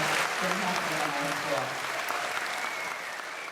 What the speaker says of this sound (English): let's just give everybody a big round of applause